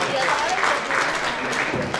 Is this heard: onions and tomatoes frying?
no